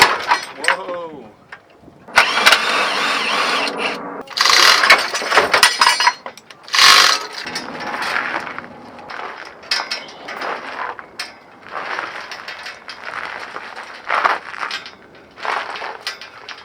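An A-frame engine hoist with seatbelt straps lifts a Honda K24 engine from a car, with clanking metal, ratcheting and scraping bursts, loud and close, and people talking over it.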